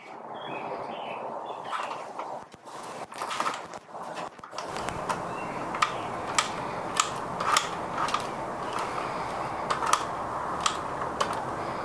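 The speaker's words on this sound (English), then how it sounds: "Tighten the right hand motor screw all the way up." Right-hand motor screw being tightened during drive belt and pulley replacement on a Vario, Vario W, close-up with a run of regular sharp ratcheting clicks after some handling and rustling.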